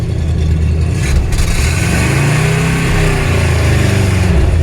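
Ford engine with a straight pipe exhaust revving hard, a loud, steady, throaty roar that rises in pitch partway through.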